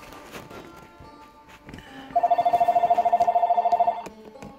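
A house phone rings indoors with a rapid trilling electronic ring lasting about two seconds, loud and close, set among scattered household knocks and shuffling.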